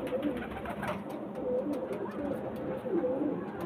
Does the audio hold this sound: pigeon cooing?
yes